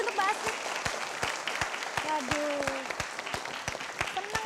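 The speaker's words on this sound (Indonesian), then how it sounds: "tepuk tangan sekali lagi" A television game-show studio audience claps in a loud, rhythmic burst, while a host and contestants talk and exclaim over the applause.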